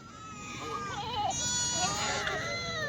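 Kathiawari goats bleat several times in overlapping, wavering calls, fairly close, with a steady background murmur.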